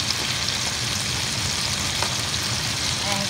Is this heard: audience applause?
no